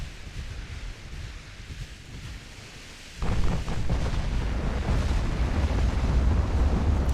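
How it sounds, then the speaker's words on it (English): Huge 16-inch naval guns of a battleship roar in a heavy, sustained barrage in the naval warfare game Ultimate Admiral Dreadnoughts, a sudden loud onset of booming fire that keeps rumbling on after a quieter stretch of wind-like noise. "And the 16-inch guns firing and just absolutely pummeling."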